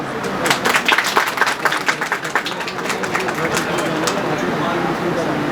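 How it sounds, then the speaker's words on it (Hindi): A live audience at a TV show launch event applauds, with the clapping loudest and most distinct at first, then thinning into a lively crowd murmur with some overlapping talk and cheering. "आइए तालियां।"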